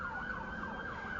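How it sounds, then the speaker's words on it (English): An emergency siren wails outside in a steady rising and falling sweep, moderately loud and continuous through the short stretch, with no voices. "I don't know what's going on with the sirens"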